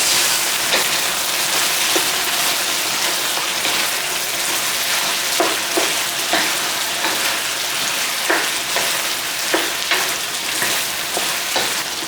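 Chicken being tossed in a wok with bean sauce and hoisin sauce, a loud continuous sizzle and fry with repeated scraping stirs and spatula clicks throughout, no voices.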